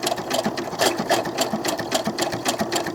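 Doll clothes being stitched on a sewing machine, a steady rapid rattle of the needle running continuously at close range with slight surges in speed, no voices.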